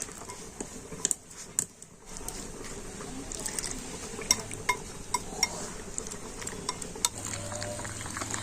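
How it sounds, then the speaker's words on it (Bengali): Batter being mixed with milk and dried fruit, soft liquid stirring with scattered light clinks of a utensil against a bowl, close and steady throughout. "দুধ দিয়ে আমি ব্যাটারটা গুলে নেব"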